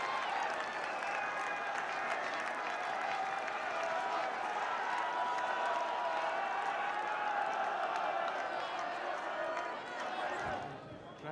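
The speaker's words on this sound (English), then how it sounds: "the crowd will cheer because he has added another 2 points." A large rugby crowd at a 1990s cup match between English clubs cheers and applauds after a successful kick, a dense, sustained roar that fades near the end, with commentary over it.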